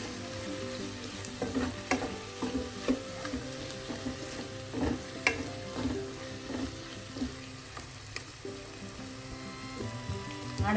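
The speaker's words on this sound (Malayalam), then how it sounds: "തക്കാളി ചേർത്ത് നന്നായി മിക്സ് ചെയ്യാം" Tomatoes sizzle in a hot pan while a spoon stirs them, giving a steady frying crackle with repeated scraping strokes at a moderate level, close up and without speech.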